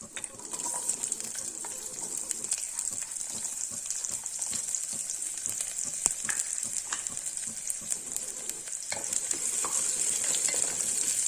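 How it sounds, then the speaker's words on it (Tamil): Onions and curry leaves sauté in a pan for a vegetable kurma, giving a steady, continuous sizzle throughout with occasional stirring scrapes and no voices. "வெங்காயம் நல்லா வதங்கட்டும்"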